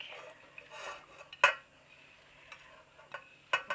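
Chopped carrots, celery and leek tumble into a cooking pot for vegetable broth, with a few sharp clattering knocks of pieces hitting metal and one louder clank, close and without talk.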